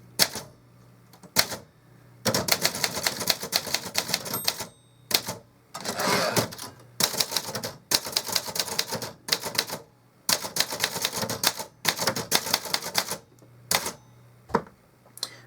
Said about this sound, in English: you can take and put this on your lap and type with it